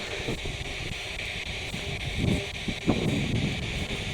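Cold wind blows outdoors beside a church at about two degrees, a steady rushing buffet of low noise hitting the microphone, with a couple of stronger gusts and faint rustling near the end.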